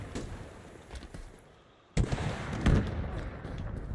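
Rocket explosions go off in the video game Halo, a couple of booming blasts with crackling debris, the biggest one landing sharply halfway through and rumbling on, under faint background talk.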